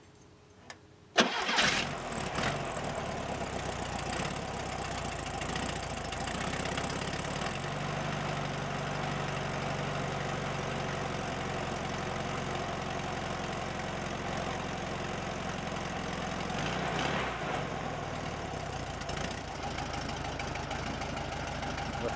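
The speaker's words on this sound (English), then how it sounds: "let's go ahead and fire this thing up and see what it sounds like before and after." A 1970 VW Bug's air-cooled engine cranks and catches on a cold start after a second of quiet, then settles into a steady, close, loud idle with a rough, knocking character that runs unbroken to the end.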